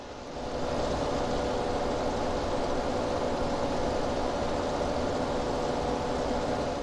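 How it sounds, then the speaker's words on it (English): Tractor engine in a farming video game labouring under load, a steady dense drone with a constant hum that runs unbroken for several seconds with no talk. "Wow, it sounds like this tractor is struggling."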